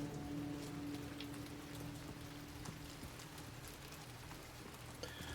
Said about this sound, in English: The other thing about the rain that I can't really, like, properly convey to folks